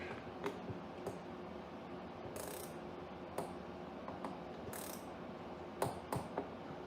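A ratchet wrench works on a pressure washer engine during carburetor reinstallation. Scattered quiet clicks come in short bursts against a low background hum.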